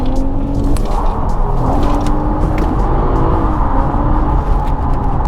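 BMW E36 drift car lapping the IDS competition layout, its engine droning loud and steady with rising and falling pitch throughout, close and continuous with no talk.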